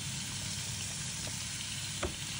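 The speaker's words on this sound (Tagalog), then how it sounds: "dyan ko igigisa yung ating karne hanggang sa lumambot siya at maging brown na" Pork sautéing in a hot pan until it softens and browns, a continuous dense sizzle and crackle with faint stirring scrapes.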